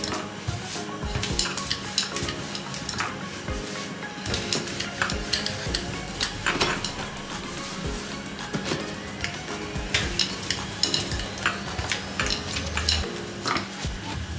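Wheat flour dough being mixed round and round in a bowl for crispy chips, with continuous stirring and scraping plus occasional clinks of utensil against the vessel, close up and without talk.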